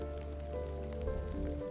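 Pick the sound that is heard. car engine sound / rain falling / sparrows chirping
rain falling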